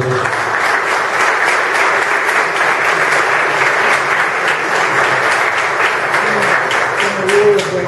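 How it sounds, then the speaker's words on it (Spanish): An audience at a young entrepreneurs' event applauds loudly and continuously, a dense wash of clapping that holds strong for the whole stretch. "Le pido un aplauso para Martín y para Sofía."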